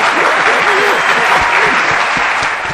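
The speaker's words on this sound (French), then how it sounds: "Ovation!" Steady, dense applause from an audience, loud and continuous for the whole stretch with a slight fade at the end, some voices mixed into the clapping.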